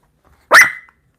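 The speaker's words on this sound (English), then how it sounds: "Hey, no barking." A single short, sharp bark from a small dog, close and loud, with silence around it.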